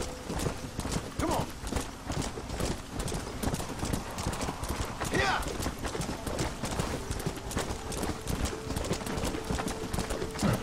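Horse hooves clip-clop steadily and quickly in Red Dead Redemption: Undead Nightmare as the horse scrambles uphill, loud and continuous throughout, with a brief whinny.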